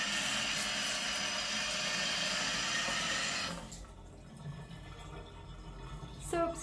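A hotel room shower at the New York New York Hotel in Las Vegas runs with a steady broadband hiss of water for about three and a half seconds, then drops away to quieter room sounds with a brief faint knock near the end.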